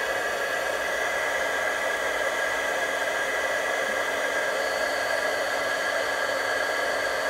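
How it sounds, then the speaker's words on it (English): A handheld heat tool blows continuously, melting embossing powder on a card, a steady close hissing whir with no change throughout and no talk. "I'm going to take my heat tool, let it heat up just a little bit. And then we're going to melt that embossing powder."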